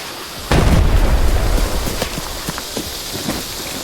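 A grenade blast in the shooter game Arena Breakout Infinite, a loud low boom that bursts in after a quiet half second, then fades into a crackling, rumbling tail with scattered pops.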